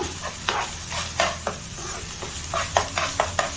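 Ginger paste frying in a pan makes a close, moderate sizzle punctuated by quick, repeated spatula scrapes and light metallic taps.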